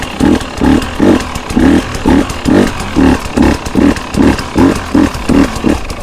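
An enduro motorcycle engine on a hard enduro training drill, revved in a steady series of about a dozen quick, short throttle blips with fast rises and drops, working throttle and clutch, loud and close with no talking.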